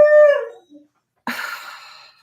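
A dog howls nearby, one long wavering howl that fades out, followed after a short pause by a second, rougher howl.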